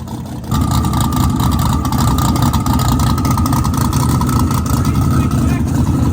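A radial drag race car engine starts up and runs loud and steady at close range, a dense rumbling roar with a constant high whine, heard alone and outdoors at night.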